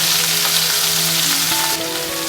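Chopped shallots drop into hot oil with fennel and cumin, a loud, dense frying crackle that shifts in tone as they hit the pan, with no talk.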